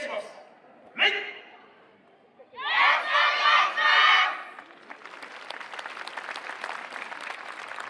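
A crowd at the main venue of the 2022 Hitachi YOSAKOI dance festival: a lone shout, then a burst of group chanting, then a broad, steady wash of applause and cheering that fills the rest of the clip.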